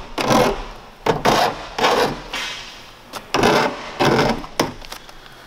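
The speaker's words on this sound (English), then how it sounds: "Now once we have everything deburred" A raw steel edge around a van roof cutout is deburred with short rasping strokes, about six scraping passes in an uneven rhythm with brief pauses between them, close and fairly loud.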